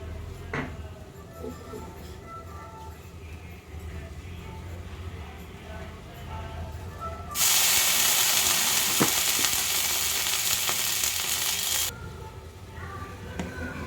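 A greased hot iron tawa for dosa sizzles loudly, with a sudden burst of bright frying hiss partway through. Background kitchen noise and faint music come before and after the burst.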